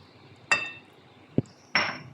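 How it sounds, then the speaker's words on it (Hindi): Three separate clinks of a utensil against a bowl as flour and salt batter for atta chilla is mixed, short sharp knocks with quiet gaps between them. "अब मैं इन सब चीज़ों को अच्छी तरह से मिक्स कर लूँगी।"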